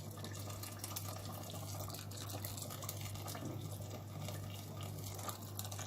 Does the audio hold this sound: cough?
no